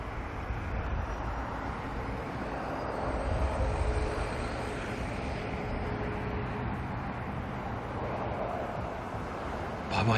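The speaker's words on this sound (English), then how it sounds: "Listening to those propellers chop the air is pretty cool." A propeller aircraft, such as a Dash 8 or ATR turboprop, flies past at Auckland Airport, a broad steady roar with a faint droning tone that swells slightly mid-way, heard from a distance outdoors.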